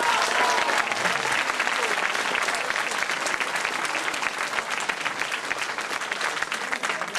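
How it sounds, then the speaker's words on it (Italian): An audience applauds at a theatre comedy staged in Rocca San Felice. The clapping is dense and steady, filling the whole stretch at an even level with a faint crowd murmur beneath. "Un applauso."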